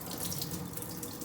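Tap water runs steadily into a sink or pot while jasmine rice is rinsed by hand, a close, even splashing rush with no speech.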